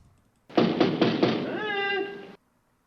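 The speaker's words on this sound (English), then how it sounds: "so there's banging on the door" Several heavy bangs on a door come from a played-back recording of The Honeymooners, a quick series of loud thumps followed by a sustained ringing tone before it cuts off abruptly.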